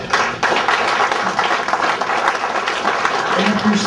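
Parents clapping together at a middle school football banquet, a dense, loud, continuous wave of applause filling the room with crowd murmur mixed in.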